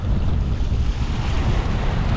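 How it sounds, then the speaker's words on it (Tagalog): A heavy ocean wave rolls and crashes at a rough shoreline where someone is casting a fishing line, a dense, continuous roar of surf mixed with wind rumble, loud and close, with no speech. "yan ang isang gulong na alon"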